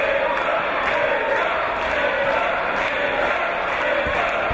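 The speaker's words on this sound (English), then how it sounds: "this crowd here siding with Gibson" A British professional wrestling crowd cheers for Zack Gibson during a match against Zack Sabre Jr, a dense, steady roar of many voices that holds at an even level throughout.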